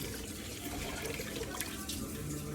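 Water from a can pours steadily into a beef stew sauce of diced tomatoes in a home kitchen, a continuous close splashing and gurgling stream with no talking.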